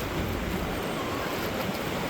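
Ocean waves surge continuously at a beach where a dog is walking into the surf, giving a loud, even wash of surf and wind without voices.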